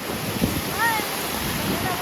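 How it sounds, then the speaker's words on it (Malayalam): Strong wind with rain roars across the microphone in a steady, buffeting rush, with a brief whistling tone and faint voices in the background. "നല്ല കാറ്റ് കൊട അടിച്ചോണ്ട് പോകും"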